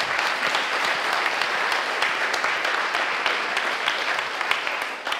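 A crowd at a student and business evening claps warmly for several seconds, steady, even applause filling the room at moderate level with no talking over it.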